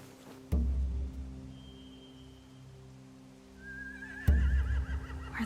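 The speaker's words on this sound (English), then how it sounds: "They have horses." Horses in The Walking Dead video game give two distinct neighs a few seconds apart. Each whinny is fairly loud against a quiet ambient bed with a faint rain-like hiss, and no one talks.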